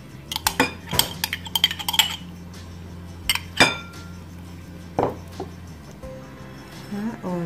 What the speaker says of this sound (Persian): همه رو با هم مخلوط میکنیم